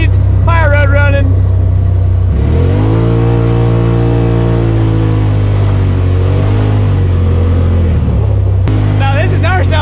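A 2021 Polaris RZR Pro XP side-by-side runs fast on a dirt fire road, its engine loud and close, droning and rising and falling in pitch with throttle changes, while voices talk over it.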